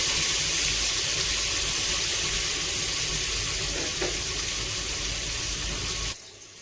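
Onion and tomato sizzling in a pan with spinach, a steady, loud hiss that holds evenly before dropping away abruptly near the end.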